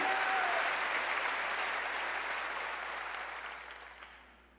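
A church congregation claps together during a Korean sermon, a broad, moderately distant wash of applause that gradually fades away.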